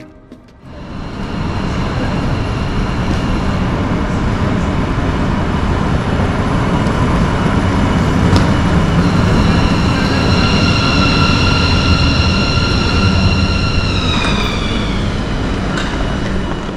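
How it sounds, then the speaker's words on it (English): A DB Mireo electric train rumbles loudly and steadily into Munich Airport station, with a whining electric motor tone that rises and then falls as it slows near the end. "Here we can see the arrival of my train at the station Munich Airport."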